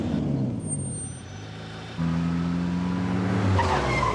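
Car pulling away in a hurry, engine note rising sharply with a brief tire squeal, loud and close, the drone swelling toward the end.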